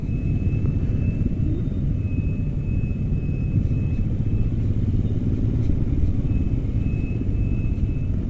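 A Royal Enfield Scram 411 motorcycle on a group ride, its engine a heavy continuous low rumble mixed with wind roar as the throttle rolls on and off, steady and close with no voices.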